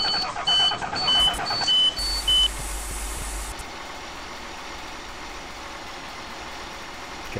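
Engine of a 1997 Blue Bird GMC bus in Rigs of Rods, a driving game: repeated high electronic beeps and a brief low burst give way to a steady idling rumble, with no talking.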